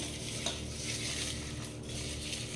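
Sliced onions are mixed with a spoon of ghee for onion pakodi, with continuous close stirring and rustling under a faint background hum.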